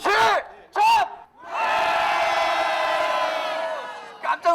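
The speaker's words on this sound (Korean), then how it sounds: "여러분, 크게 함성 한번 질러볼까요?" A crowd at a rally against wartime sexual slavery by the Japanese military lets out a long, loud collective shout, sustained for about three seconds, preceded by a couple of brief shouted calls.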